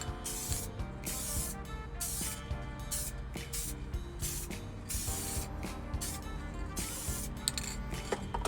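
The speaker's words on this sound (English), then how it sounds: "I'm gonna do a test spray, make sure I can see what the pattern's doing" Satin black spray paint hisses steadily onto a car steering wheel during automotive interior repair, starting as a test spray, with a continuous close aerosol rush over faint background music.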